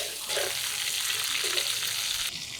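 Spices for tempering fry in a little oil in a kadai, a close, bright sizzle that starts abruptly and holds steady with faint stirring scrapes, then drops back at the end.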